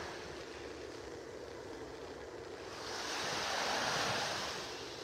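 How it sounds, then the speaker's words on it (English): Surf from an incoming tide washes steadily onto North Naples beach in Florida, a continuous hiss that swells louder near the end as a wave breaks and rushes in, with some wind noise and no voices. "The tide is coming in here."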